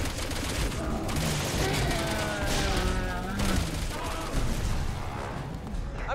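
Gunfire in the video game Resident Evil 6, dense rapid bursts of shots and booms layered over a steady roar of game noise, with players talking over it.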